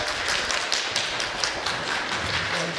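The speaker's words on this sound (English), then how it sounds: "Everyone give a round of applause for Jack." A crowd at a political campaign event in Dallas applauds a co-host coming up, a steady dense wash of clapping throughout at fairly high level with no speech over it.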